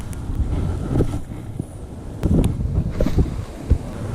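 Strong wind at a fishing spot buffets the microphone in uneven gusts and thumps, with watery sloshing underneath and no speech.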